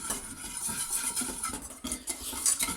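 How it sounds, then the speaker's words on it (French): A whisk stirring a cornstarch mixture in a bowl for a lemon fondant cake, a quick, steady metallic scraping and swishing heard close, with no voices. "Donc là je récupère le fouet. Et on mélange ces deux éléments pour commencer."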